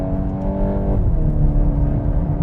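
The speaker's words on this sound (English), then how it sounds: "Oh, on the overrun, I love that." A VW Golf R engine on the overrun, a loud, close droning exhaust note that drops in pitch as the revs fall off, with no talking over it.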